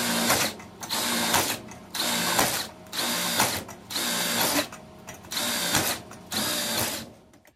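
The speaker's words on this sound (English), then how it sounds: "let me finish drilling up these holes" A power drill bores holes in a gold highbanker, running in about seven steady bursts of a second or so with short pauses between, loud and close with no talking.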